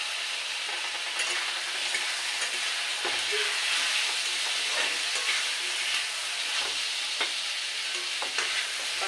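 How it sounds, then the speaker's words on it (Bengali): Potatoes frying in a pan for a curry with brinjal and prawns give off a steady, close sizzle, broken by scattered spatula scrapes and stirring clicks. "এবারে আলুগুলো দিয়ে এমনি কষাবো।"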